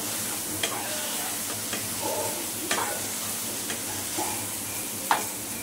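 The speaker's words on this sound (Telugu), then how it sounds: "ఇంకైతే ఉల్లిపాయ ముక్కలు చీకోసారి టమాటా ముక్కలు వేస్తున్నాను అనమాట" Chopped onion and tomato pieces frying in a pan for tomato rice while a spoon stirs, giving a soft, low sizzle broken by several sharp scraping clicks of the utensil against the pan; no voices.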